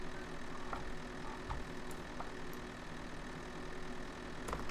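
A tractor engine in Farming Simulator 2013 drones at high revs, a steady, fairly quiet mechanical hum that holds without pause and with no one talking.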